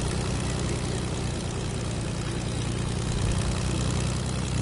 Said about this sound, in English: I hear another plane.